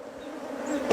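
Honey bees buzz during a hive inspection on a medicinal honey farm, a close, steady drone of many insects that rises slightly toward the end.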